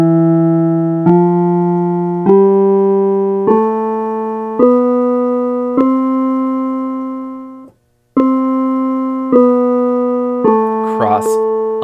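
A piano plays an ascending major scale with the left hand, nine evenly spaced notes struck one at a time, each ringing and decaying, with a brief gap before the final notes and a short noise at the end.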